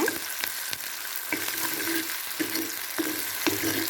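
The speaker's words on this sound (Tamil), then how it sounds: "வெங்காயம் தக்காளி கொஞ்சம் வதங்கிருச்சு" Onions and tomatoes sauté in a pan for a banana flower curry, with a steady close sizzle and repeated stirring scrapes at a regular pace.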